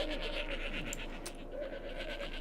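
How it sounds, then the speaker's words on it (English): Sheep bleat in a farming video game among pigs, a noisy flock heard as faint, repeated wavering calls layered over a steady game background with no speech. "we have our pigs and a lot of noisy sheep"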